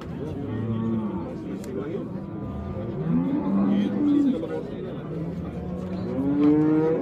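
Cattle at a busy livestock bazaar, several nearby low moos rising and falling over a steady crowd murmur, with people talking throughout.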